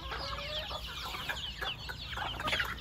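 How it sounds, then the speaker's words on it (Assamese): Local village chickens cluck in short, repeated bursts at a moderate distance, several birds overlapping against a steady outdoor background with no talking. "এনেকৈ চব লোকেল মুৰ্গী হয় এইকেইটা"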